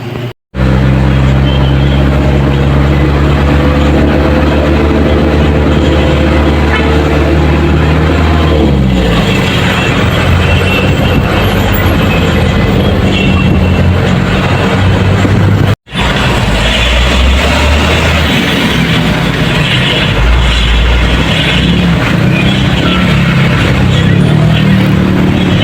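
A delivery truck loaded with spring units drives along, a loud steady engine drone with rising gear tones early on and constant road rumble, close and continuous without speech.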